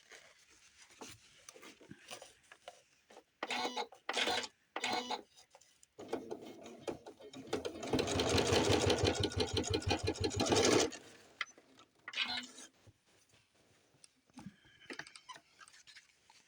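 Sewing machine stitching a pair of doll slacks, a fast steady run of close mechanical stitches for about three seconds in the middle, framed by shorter bursts and handling noises on either side.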